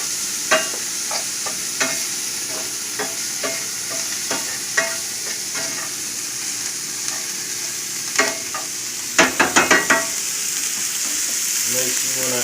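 Shrimp and scallop stuffing wilting down in a pan, with steady soft frying and sizzling under repeated clicks and scrapes of a utensil stirring against the pan, a quick cluster of sharper knocks near the end.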